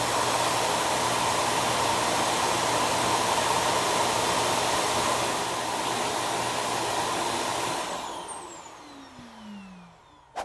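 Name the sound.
ECOVACS DEEBOT N8 PRO+ auto empty station emptying robot vacuum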